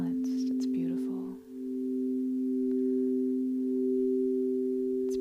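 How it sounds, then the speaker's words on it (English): A steady pure sine-like tone holds evenly after a few brief opening chirps, continuous and moderately loud beneath a meditation setting, with a short dip near the start. "It's called a sine wave."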